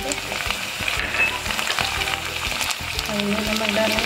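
Green chilies fry in a hot pan for a green onion recipe, a loud, continuous sizzle and crackle close by with occasional stirring scrapes.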